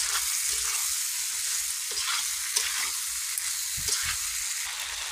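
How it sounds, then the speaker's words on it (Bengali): Previously fried cauliflower goes into a hot pan for a home-cooked Bengali curry with cashews and raisins, stirred through sizzling oil; steady bright frying hiss with a few soft scrape and stir knocks, close and unaccompanied by talk. "এবারে দিয়ে দিব এই যে ফুলকপিগুলো ভেজে রেখেছি, তো দিয়ে দিব। এটা সামান্য নেড়ে অল্প করে জল দিই।"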